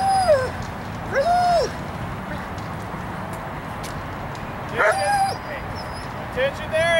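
A Bakersfield Police Department K9 dog gives a few short whimpering yips and barks spread across the clip, at moderate distance, over a steady background rumble with a person talking.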